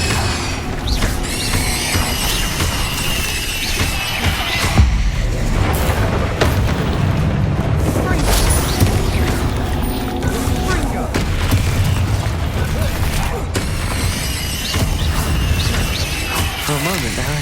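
Bombarda and Incendio spells going off in Hogwarts Legacy, repeated heavy booms and crashing explosions amid constant battle noise, with a character speaking between blasts.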